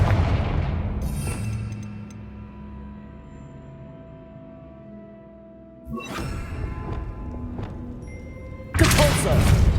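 A Confringo fire spell erupts in the Hogwarts Legacy game, a sudden booming blast near the end after quieter rumbling bursts, with a voice calling out spells and game sounds underneath.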